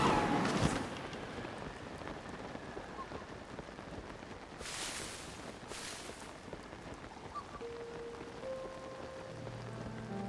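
Steady rain falls in the video game Zelda: Tears of the Kingdom, a soft, even hiss of drops that continues unbroken with no voices.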